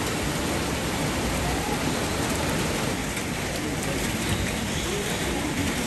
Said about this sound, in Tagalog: Habang umuulan.